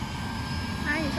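A helicopter engine turns and cranks up in a steady, loud mechanical whine and rumble, with a rising tone near the end.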